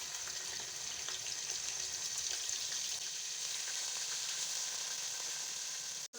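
Four or five chopped onions sizzle in hot ghee or oil in a pan, a loud, even crackling hiss that holds steady throughout before cutting off abruptly.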